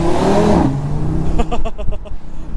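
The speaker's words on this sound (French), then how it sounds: "Le petit passage de rapport sous le tunnel," A 2021 Audi RSQ3 five-cylinder engine revs hard, then a quick gear change and burbling crackles echo inside a short tunnel, loud and close.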